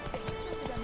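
Horse hooves clip-clop in a steady trotting rhythm in the video game Witcher 3, faint and close with no talk over them.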